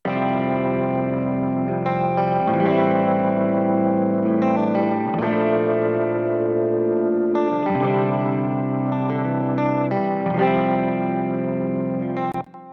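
Distorted electric guitars play sustained chords through a cassette-style wow and flutter effect and Decapitator saturation, the pitch wobbling slightly as the chords change in a steady rhythm, with no talking.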